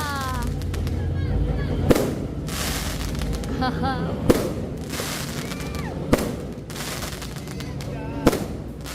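New Year's fireworks burst in four sharp bangs spaced a couple of seconds apart, over a constant noisy background of cheering and people talking.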